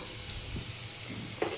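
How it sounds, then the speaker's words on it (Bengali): Fish fat frying dry in a pan with green chili and onion, no oil added, giving a soft, steady sizzle close by with a few stirring scrapes and a brief louder clatter near the end. "মাছের তেলটা ভাজবো একদম। কাঁচা লঙ্কা আর পেঁয়াজটা দিয়ে দিয়েছি, একদম তেল দেয়নি।"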